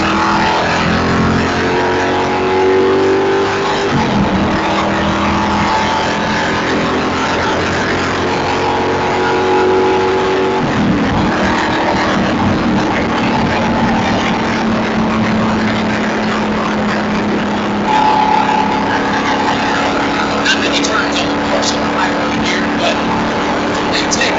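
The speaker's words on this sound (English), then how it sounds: "get a feel for what the driver's going through as he goes into the gears at the start of this race" Onboard a De Tomaso Pantera race car at a race start, a loud engine drones steadily, its pitch climbing and dropping through gear changes, with someone talking over it.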